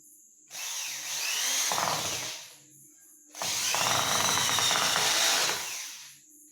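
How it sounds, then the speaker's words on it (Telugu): Two long bursts of a power drill driving a star screw into a piece of wood, the motor whining and straining under load, with a short quiet pause between them and no talking. "ఈ చెక్కకి అయితే నేను స్క్రూన్ అనేది ఫిట్ చేస్తున్నాను"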